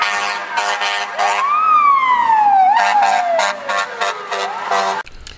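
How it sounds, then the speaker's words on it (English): Loud wailing and yelping fire truck sirens sweep past outside a Harlem window during the December 2010 blizzard, cycling through several rising and falling tones close by before cutting off abruptly. "Here comes the loud fire trucks."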